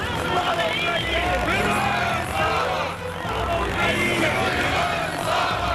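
A large crowd of Crimean Tatars rallies in Simferopol, many voices chanting slogans in rough waves over a continuous roar of hubbub, loud and dense throughout.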